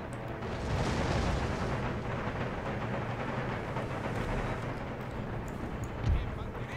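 Canister shot artillery fire thunders during a siege in the video game Empire Total War, a dense rolling roar of cannon blasts and crackling musketry with a louder thump near the end, heard at some distance.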